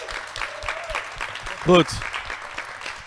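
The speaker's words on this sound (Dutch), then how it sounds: "Geef een enorm applaus, dames en heren." Audience applause at a live Dutch podcast recording, scattered clapping running under a voice, with one brief louder burst near the middle.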